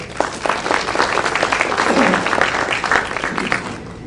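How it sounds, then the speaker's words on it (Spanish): Seminar audience welcomes a guest speaker on clinical mediation with warm applause, a dense crowd clapping throughout at fairly close range, a few voices mixed in. "Recibámoslos con un fuerte aplauso"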